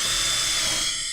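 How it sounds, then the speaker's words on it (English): A power drill on a brief, high-pitched whining burst, driving a screw while legs are fixed to a wooden sloping beehive stand; the drill is close and loud, with no talking. "And take your drill again."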